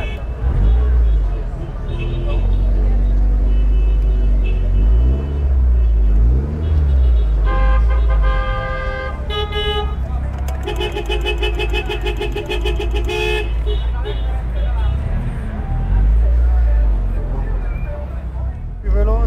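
Hundreds of Mazda MX-5 roadsters crawl around the Modena racetrack at a Guinness record attempt, a loud constant rumble of idling engines with horn toots and tonal honks, while someone talks over it.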